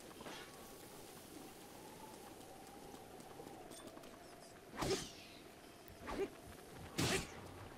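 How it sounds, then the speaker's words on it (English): Steady rain falls in Zelda: Breath of the Wild as a soft, continuous hiss with a faint sustained tone, broken by three sharp louder bursts from the game toward the end. "Look at this rain."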